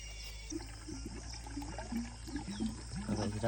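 Water from a motor pump pours steadily into a paddy field, a constant close rushing wash with small chirping calls scattered over it, growing slightly louder toward the end.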